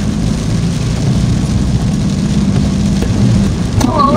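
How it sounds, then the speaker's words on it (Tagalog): Heavy rain pours down in Tinoc in a loud, constant roar, dense and unbroken, with a brief faint chirp near the end. "Grabe yung ulan, no?"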